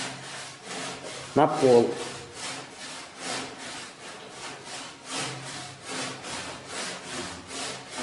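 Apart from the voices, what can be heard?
hand saw with wide teeth cutting tongue-and-groove gypsum blocks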